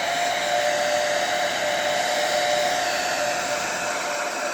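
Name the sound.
hair dryer on low heat blowing acrylic paint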